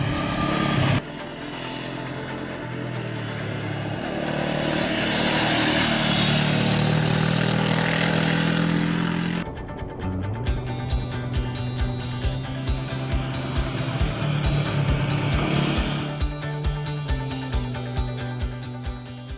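A Honda CB500F motorcycle engine runs while riding, droning loud and steady, then shifting into a rhythmic, pulsing note as the revs change, with no talk over it.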